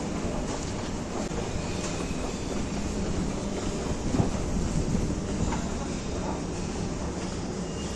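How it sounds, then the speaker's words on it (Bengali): A metro train running between Airport and Noapara hums and rumbles steadily, a moderate enclosed rolling drone with faint rattles and occasional clicks, no voices prominent. "তো চলুন বন্ধুরা, বেশি দেরি না করে মেট্রোয় ওঠা যাক"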